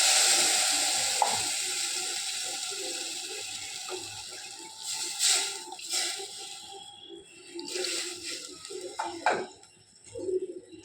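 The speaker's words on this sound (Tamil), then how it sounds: "ஜாரை தண்ணி ஊற்றி கழுவி ஊற்றிக்கணும்." Rinse water from a blender jar is poured into masala cooking in a pan, giving a steady watery pour that turns into bursts of sizzling and bubbling, close and moderately loud with no talk.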